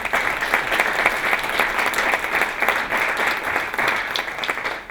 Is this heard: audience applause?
yes